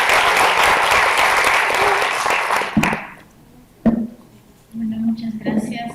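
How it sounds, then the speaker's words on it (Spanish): Audience at a human rights panel discussion applauding, a full burst of many clapping hands that stops abruptly, followed by a few stray claps and a speaking voice. "Les pediría que lo recibamos con un aplauso"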